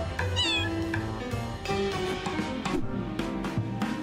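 A cat meows in the video game Little Kitty Big City, with a few short meows over steady game music and sound effects.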